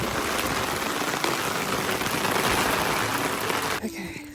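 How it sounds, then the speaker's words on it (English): Steady rain patters densely on surfaces outdoors while a car is unloaded, a close continuous hiss of drops that drops off sharply near the end. "It's literally just started raining."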